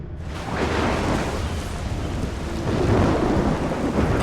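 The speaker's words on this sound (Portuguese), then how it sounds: "Tem uma tempestade." A thunderstorm in the video game Assassin's Creed Revelations: heavy rain roars steadily throughout, and a deep rolling rumble of thunder builds partway through, loud and close with no voices.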